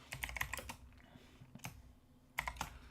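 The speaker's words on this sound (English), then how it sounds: "I gotta get in the habit of typing all this stuff" Keys clack on a computer keyboard while code is typed for a C programming course, in quick bursts of close, crisp strokes separated by short pauses.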